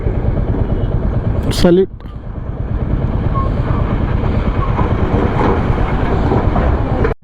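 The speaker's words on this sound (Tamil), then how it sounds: "வண்டி நிறையா வந்துக்கிட்டே இருக்குது, மிலிட்ரி வண்டி." Military vehicles rumble steadily past on a rough off-road mountain road in Ladakh, a loud continuous engine and road noise close by, with a brief spoken word near the start.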